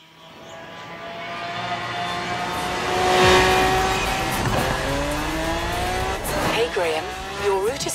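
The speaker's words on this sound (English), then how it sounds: "I think we're going to be driving the Lamborghini here. It's going to be the Lamborghini Centenario." A Lamborghini Centenario's engine in the racing video game Forza Horizon 3, a steady high rising drone with revving swells and tire squeals toward the end, heard under someone talking.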